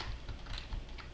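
Quick, even keystrokes on a computer keyboard tap out a rapid rhythm of close clicks, soft and steady, with no talking.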